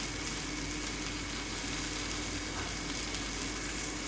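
Okra and potatoes frying in a pan with already-fried onions, a dense, steady, faint sizzle that continues evenly throughout.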